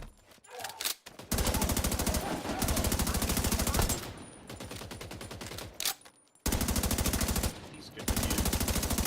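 Classic M60 machine gun in a video game, loud sustained automatic fire in long bursts separated by brief pauses, with a voice speaking briefly over it.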